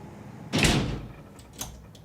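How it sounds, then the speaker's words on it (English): A house door in a domestic interior swings and shuts with one firm, loud thud, followed by a couple of faint clicks and rattles as it settles. "I'll lock the door behind me."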